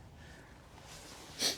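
A single short, sharp sniff comes close to the microphone at the very end, as someone smells the interior of a 1966 Chrysler Imperial against faint background hiss.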